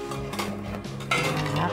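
A spoon stirs sugar into a hot milk jelly mixture in a pot, producing soft scraping and occasional metallic taps over a low continuous hum, with a brighter swirl toward the end.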